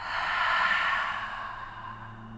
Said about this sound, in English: Take a big deep breath in. Exhale it out.